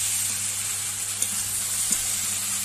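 Drumstick, pumpkin and potato curry sizzles steadily in a pan, a constant close frying hiss with a couple of faint stirring knocks and no talk.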